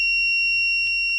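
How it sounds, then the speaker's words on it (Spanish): A buzzer in an NE555 timer bistable circuit sounds a steady, piercing electronic tone, loud and close, held unbroken across the whole moment. "Ahora se prende el zumbador"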